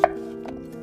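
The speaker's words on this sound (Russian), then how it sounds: "Берем 3 очищенные картофелины и нарезаем кружками одинаковой толщины" A knife cuts through peeled potatoes into rounds of even thickness, one crisp sharp chop up front, then softer, fainter strokes against the board.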